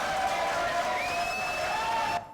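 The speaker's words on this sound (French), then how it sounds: "Applaudissements, s'il vous plaît." Studio audience applause on a French TV variety show, a dense steady wash of clapping with sustained tonal music running underneath, cutting off abruptly near the end.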